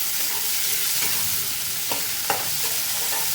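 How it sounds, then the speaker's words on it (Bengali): Tomatoes fry in a pan with golden-brown onions for a potato egg curry, a steady close sizzle with a few soft clacks of stirring, and no voices. "টমেটোটা হালকা একটু ভাজা ভাজা করে নিতে হবে।"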